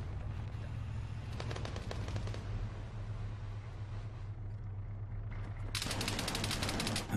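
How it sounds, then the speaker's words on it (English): Rapid bursts of enemy automatic gunfire in the video game Arma 3 crackle over a constant low engine rumble, two clear volleys, with a loud sustained burst at the end. "the enemy gunfire that we're being taken out by"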